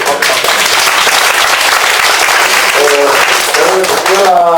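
Audience applause at a forum on religion and food culture, dense sustained clapping from a large crowd, loud and steady throughout, with a voice briefly heard over it near the end.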